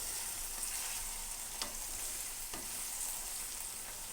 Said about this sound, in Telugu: మధ్యలో మనం ఒకసారి వంకాయని కలబెట్టుకుంటూ ఉండాలి, ఎందుకంటే అడుగున మాడకుండా.